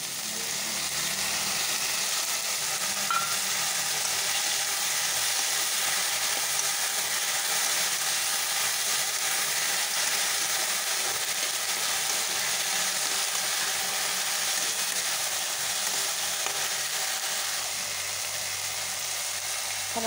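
Ginger and green chilli paste sizzling in a hot pan while cooking bottle gourd shukto, a strong, continuous hiss that holds steady and loud throughout with no voices.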